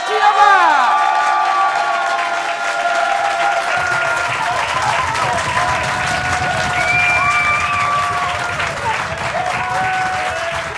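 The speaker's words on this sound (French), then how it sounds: "Je vous demande d'applaudir pour la première fois Daria" A comedy-show audience applauds and cheers as a stand-up comedian is introduced, with loud clapping, whoops and high shouted voices rising and falling throughout.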